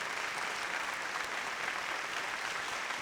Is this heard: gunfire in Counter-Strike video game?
no